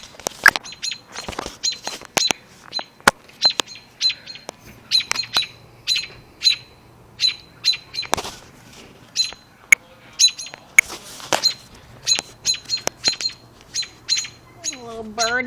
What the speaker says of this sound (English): Little birdies.